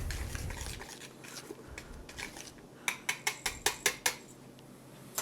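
Dry ingredients for cinnamon rolls pre-mixed by hand in a bowl, quiet scraping and stirring followed by a quick series of rhythmic taps and clinks from the utensil against the bowl.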